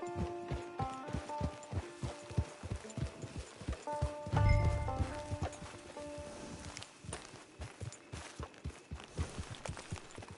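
Steady clip-clop of horse hooves walking at an even rhythm in Red Dead Redemption 2 Online, close and clear, with a tonal music bed and a brief low rumble midway.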